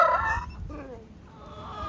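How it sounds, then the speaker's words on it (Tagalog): Lively backyard chickens at home cluck close by while a rooster lets out a crow, the calls loud at first and then trailing into softer clucks. "Yan ang mga masisigla nating mga manok guys, oh."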